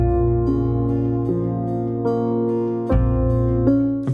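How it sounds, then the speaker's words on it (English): Ableton's sampled upright bass, rolled off with EQ, plays a lo-fi Halloween beat line of sustained, rounded low notes changing every half second or so, with warm harmonics and nothing else heard. "why not use Ableton's upright bass? Just rolled it off with the EQ"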